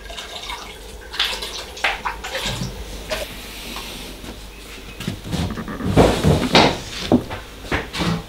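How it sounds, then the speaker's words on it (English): A coconut cream mixture for virgin coconut oil is poured through a strainer into a bucket, giving a sloshing, splashing pour with hollow knocks of the bucket. The pour swells louder toward the end, and no one talks. "you now have to pour the mix into the bucket using the strainer"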